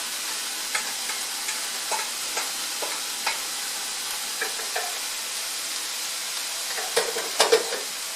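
Texas hash sizzling steadily in a foil-lined skillet, with intermittent spatula scrapes and stirring clicks, a few sharper knocks near the end, heard up close without talk.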